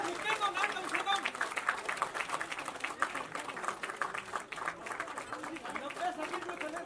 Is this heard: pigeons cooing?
no